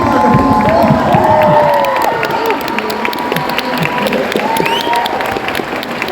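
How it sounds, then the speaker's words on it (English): A comic convention audience at a Billie Piper panel claps and cheers loudly, with whoops and shouts rising over dense, sustained applause from a large crowd. "Everybody, big round of applause."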